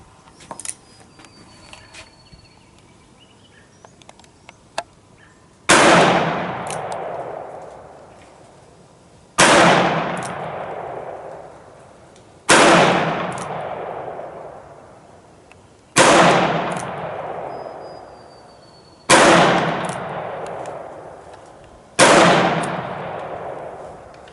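Six loud, sharp revolver shots from a Korth Combat Mongoose loaded with Fiocchi 158 grain rounds, fired single action at a steady pace a few seconds apart, each report ringing out with a long decaying tail and no talking.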